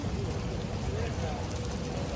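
Steady rain pours down outdoors in the UAE, a dense, even hiss of drops hitting surfaces close by for the whole stretch, with no break in the downpour.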